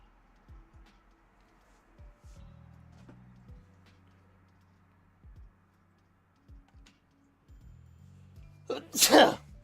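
One sharp, loud human sneeze bursts out at the very end, after a stretch of quiet ticking and low clicks from a video game playing in the background.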